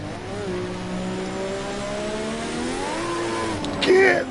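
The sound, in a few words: turbocharged car accelerating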